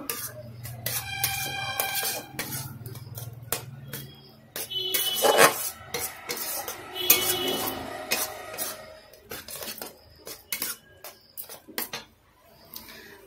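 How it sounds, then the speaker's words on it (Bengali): A spoon scraping and clattering against a pan while sandesh mixture is stirred, irregular metallic knocks and scrapes continuing steadily, close and fairly loud. "ভালো করে মিশিয়ে নেব।"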